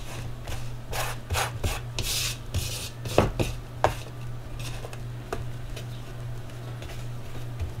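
Scraping and rubbing against a mixing bowl while gathering leftover flour and sticky bread dough, a run of short, close scuffs with a few sharper knocks and a steady low hum underneath.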